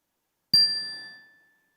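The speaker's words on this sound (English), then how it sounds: "at the sound of the chime, you can take your seated posture" A single meditation chime rings out once, a clear bright strike that sustains and slowly fades over about a second in an otherwise silent room.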